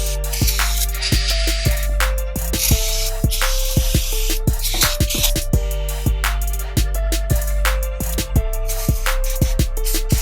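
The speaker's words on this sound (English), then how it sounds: "Use a parts cleaner or brake clean to clean off any residual fluid off the differential." Brake cleaner is sprayed onto the front differential of a BMW 325xi E46 after a fluid service. A loud, close aerosol hiss runs continuously, broken by rapid clicks and sputters.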